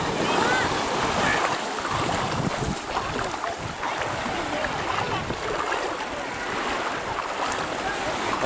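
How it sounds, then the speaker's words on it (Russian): Small surf breaks on the shore of a sheltered bay at low tide in southern Primorye, a steady rushing wash mixed with heavy wind buffeting the microphone, loud and continuous throughout. "Сейчас отлив. Небольшой прибойчик, и он водоросли немножко нагнало."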